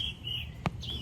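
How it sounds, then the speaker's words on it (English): Golden conures giving a few short, bright chirps indoors, with a single sharp click in between, brief and moderately close. "Parrots are my bliss."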